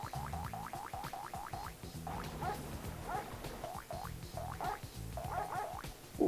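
Repeated synthesized frog croaks from the PS1 video game Frogger, arriving in quick rhythmic bursts over busy game music and effects, fairly loud throughout.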